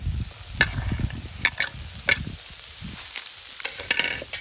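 Green peas being stirred in a frying pan while cooking a drumstick-flower dish with potato and eggplant, giving irregular close scraping and stirring clatters over a soft, steady sizzle, with no talking.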